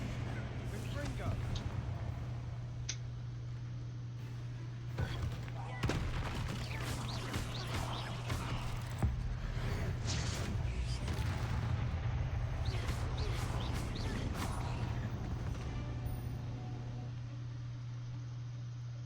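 Blasting-spell explosions in a fantasy video game go off as repeated booming bursts over a steady low hum, several sharp blasts scattered through the stretch, set in a grassy catacomb.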